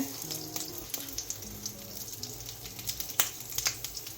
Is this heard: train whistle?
no